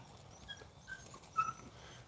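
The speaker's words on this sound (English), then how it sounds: "we've got 10 big dogs and 4 little pups and 1 dog about ready to have pups" Beagle hounds whimper in a few faint, thin high whines scattered over a quiet background, the last slightly louder than the rest.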